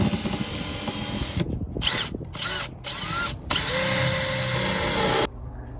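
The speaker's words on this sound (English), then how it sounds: "That drill bit was wide enough." A power drill whirs loudly in several short bursts, pausing between them, then runs one long steady stretch as it bores into wood on a boat, close by.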